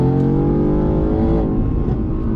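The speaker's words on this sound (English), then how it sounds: "Still pretty loud with the exhaust." Mercedes-AMG GT sports car accelerating hard, its loud exhaust roaring continuously at close range with a rising engine tone and no talk over it.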